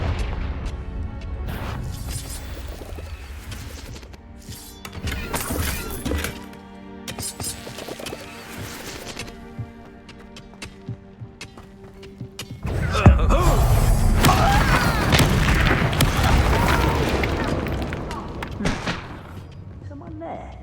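Confringo fire spell blasting in Hogwarts Legacy, a sudden loud booming burst at about thirteen seconds that rolls on as a dense crackling roar, after quieter game music and thuds.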